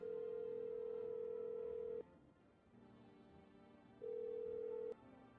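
A telephone in the video game No I'm Not a Human gives two steady electronic ring tones, the first about two seconds long and the second about one second, separated by a quiet gap of low hum.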